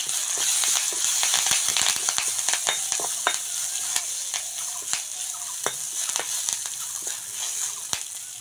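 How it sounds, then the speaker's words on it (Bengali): Mustard seeds, asafoetida and green chilli fry in hot mustard oil in a pan, a close, continuous crackling sizzle dense with sharp seed pops and spits, heard alone with no talk. "সর্ষে দিয়ে দেব, হিং, কাঁচা লঙ্কা,"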